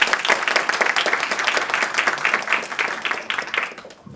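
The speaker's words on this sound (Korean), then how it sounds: "박수로 부탁드립니다." Audience applause fills an award ceremony for a Gyeonggi Broadcasting radio star contest, a dense, steady round of clapping from a hall crowd that holds strong for about four seconds before tapering off.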